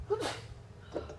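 A single short sneeze in a transmission workshop during a 6L90E rebuild, fairly quiet and close, followed by a fainter second burst of breath.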